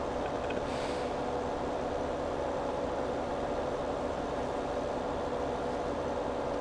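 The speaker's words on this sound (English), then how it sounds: "Wow, this tractor is struggling." A 165-horsepower tractor engine straining in Farming Simulator 2017, a dense, constant low drone and rumble that holds steady throughout without a break, with no voice over it.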